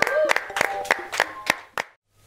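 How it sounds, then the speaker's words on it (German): Sharp, evenly spaced hand claps of roughly seven beats ring out at a talk show, close and loud, with a held tone under the first ones and a faint background hum at the end. "Bravo! Fetter Applaus!"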